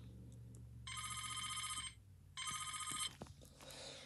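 A telephone ringing with two trilling electronic rings, each about a second long with a short pause between, clear and close over a quiet low hum, followed by faint rustling.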